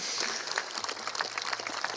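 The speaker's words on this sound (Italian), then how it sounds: "Un applauso per tutte voi ragazze." An audience claps for pageant contestants at the Miss Città Murata final in Cittadella, Padova. The applause is dense and steady throughout and moderately loud.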